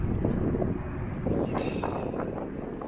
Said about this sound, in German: es ist aber eisiger Wind.